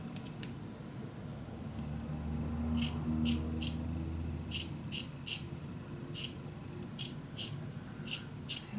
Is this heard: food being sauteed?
no